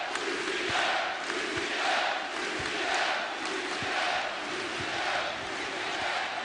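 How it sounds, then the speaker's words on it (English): A capacity basketball crowd in the arena at a UCF NIT game cheers and roars in a broad, sustained wash of noise, with rising and falling waves and a few dull thuds underneath. "this capacity crowd rises to its feet. It's a great crowd tonight."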